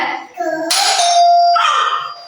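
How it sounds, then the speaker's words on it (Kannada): A doorbell rings indoors with a clear electronic chime of two tones, loud and near, with a voice speaking just before it. "ಬೆಲ್ ಸೌಂಡ್ ಏನೋ ಕೇಳಿಸ್ತಿದೆ"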